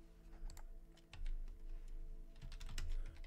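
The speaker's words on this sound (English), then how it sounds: "Press on the enter key." Quiet keystrokes on a computer keyboard while working in a Debian terminal, a few scattered clicks ending with heavier presses like the enter key, alone over a low steady hum.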